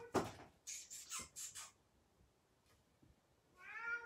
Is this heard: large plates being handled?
no